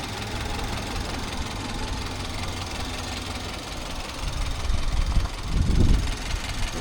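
A 2021 Chevy Silverado 1500's 2.7 liter four-cylinder engine runs at a steady, close, low rumbling idle, with a couple of brief louder surges near the end.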